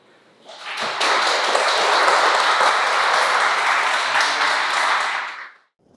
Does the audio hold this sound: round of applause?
yes